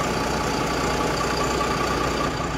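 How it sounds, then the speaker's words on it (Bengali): A Volvo 9600 multi-axle coach's engine idles at a standstill, a steady loud drone with a constant hum throughout and no voices. "ভলভোর ইঞ্জিনের আওয়াজটা একবার যা শোনো"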